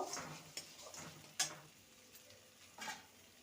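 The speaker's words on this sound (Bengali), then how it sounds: "ভালো করে নেড়ে নেব" Peas are stirred in a frying pan, heard as a handful of spaced spoon scrapes and taps against the pan over a faint sizzle, quiet and close.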